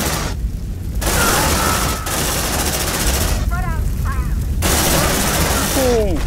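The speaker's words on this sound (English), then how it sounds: "Fire! Take them down! Under heavy fire!" Sustained gunfire in Aliens: Dark Descent, dense bursts of rapid shots filling the scene, briefly cut by short pauses, with voices calling out over the shooting.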